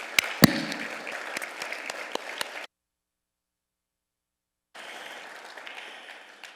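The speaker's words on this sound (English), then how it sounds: "Another round of applause, please." Audience applause at a Hall of Fame ceremony, a crowd clapping with a few sharp louder claps, cut off to silence midway and then resuming more softly.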